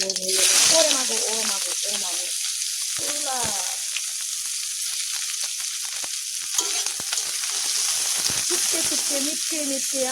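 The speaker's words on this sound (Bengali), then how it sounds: "বেরেস্তা ভাজার জন্য তেল কম হচ্ছিল আমি আর একটু অ্যাড করে দিলাম" Onions sizzle and crackle steadily in hot oil as they are stirred while being fried crisp for biryani, with a voice heard briefly at moments.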